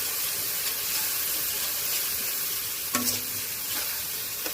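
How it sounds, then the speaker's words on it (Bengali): Ingredients being stirred and dry-fried in a pan, producing a steady close sizzling hiss with light scraping from the stirring and one brief louder clatter. "এটা ঢেলে দিলাম, নেড়ে নেড়ে নেড়ে নেড়ে একদম শুকনো করতে হবে।"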